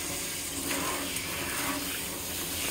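Warm tap water runs steadily into a kitchen sink during a chihuahua puppy's bath, a continuous close hiss and splash with no pauses.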